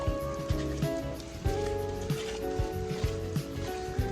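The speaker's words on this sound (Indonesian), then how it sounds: "Hujan tambah gede guys." Heavy rain falls at Gyeongbokgung Palace, a steady, close patter on hard surfaces broken by regular, soft drip thuds roughly every half second.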